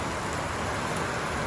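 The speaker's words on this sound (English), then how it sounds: "Storm has hit and there's a bit of hail" Heavy rain with a bit of hail pouring down hard in a storm, a steady, dense hiss of drops close by that never lets up, with no voices over it.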